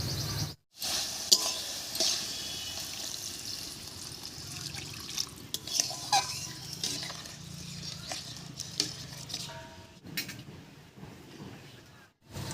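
Water poured into a simmering spice mixture for a khoira fish curry with spinach, giving a soft trickle, stirring and faint sizzle in a pan, close and fairly quiet, with a few brief pauses.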